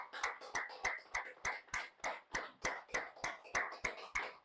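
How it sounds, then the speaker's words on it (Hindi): An event audience claps for the FTRT team in steady, unison rhythm, about three sharp claps per second, close and clear with no talking over it. "जोरदार तालियां एफटीआरटी की पूरी टीम के लिए"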